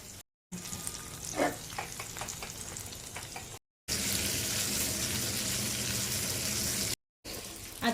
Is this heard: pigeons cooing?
no